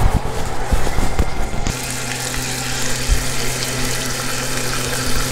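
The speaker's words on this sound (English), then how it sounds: "Get close with your mic during this sizzle." Bacon frying in a pan gives a dense, steady sizzle heard close up, with a little handling noise at the start before the crackle settles into a continuous hiss.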